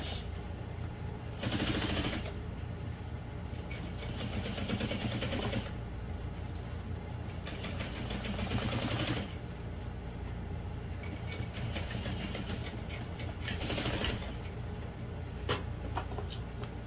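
Sewing machine stitching and backstitching a seam on an all-vinyl bowler bag, running in steady mechanical bursts that start and stop several times, close and fairly loud with no talking.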